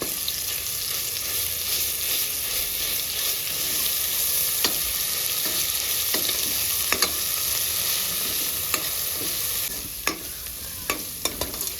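A spoonful of ginger garlic paste frying in a pan for alasanda charu, a loud steady sizzle with scattered sharp clicks of a spoon stirring, continuing unbroken throughout.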